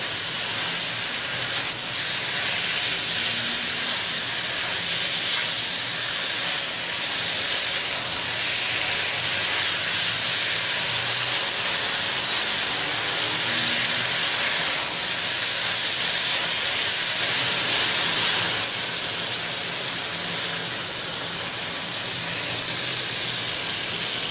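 Pork stir-frying with ginger and spring onion gives a loud, steady sizzle and hiss that runs unbroken from start to finish, with no talking over it.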